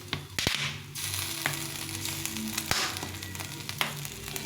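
Leftover roti frying in a pan with tomato ketchup, giving a steady close sizzle with occasional stirring clicks and scrapes, no voices.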